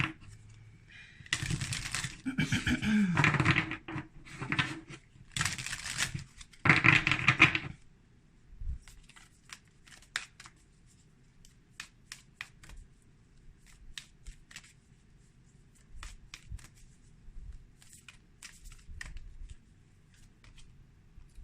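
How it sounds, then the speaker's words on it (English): A deck of oracle cards is shuffled loudly and riffled at close range for several seconds. Softer flicks and taps follow as a single card is drawn. "Let's pull a Return to Spirit card."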